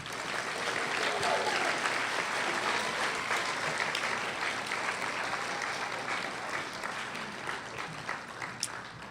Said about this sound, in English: ask that we give a big round of applause for the people who made this evening